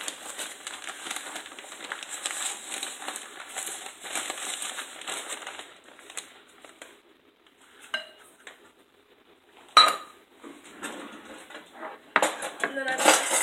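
Metal spoon stirring sugar into hot tea in a pot for kombucha, with repeated scraping and clinking against the pot in irregular bursts, some pauses, and a sharp clank near the end.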